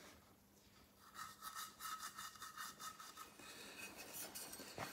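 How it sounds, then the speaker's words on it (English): A pad of Scotchbrite scrubs back and forth over metal exhaust pipes being prepped for welding on a custom Toyota Hilux exhaust, a faint, rapid rhythmic rasping that starts after a second and runs steadily to the end. "So we just get like a bit of Scotchbrite and you can twist it, or you can go backwards and forwards."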